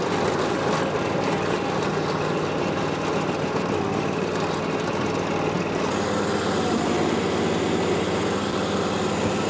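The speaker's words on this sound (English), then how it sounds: "you can hear the engine starting to bog down" A small engine on a Struck MH4900 mini dozer runs steadily and loudly throughout, bogging down under blade load, with a continuous mechanical drone and no pauses or talk.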